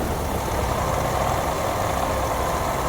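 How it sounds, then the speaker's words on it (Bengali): An auto-rickshaw engine idles with a continuous, even rattling drone, close and fairly loud, with rain falling on a quiet night road. "একটা খালি অটো আসছে মনে হয়"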